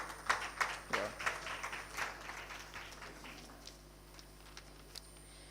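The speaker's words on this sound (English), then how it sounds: "Please, a round of applause for him again." Audience applause at a youth conference, a burst of scattered hand clapping that is strongest at the start and then thins out into a few sparse, fading claps.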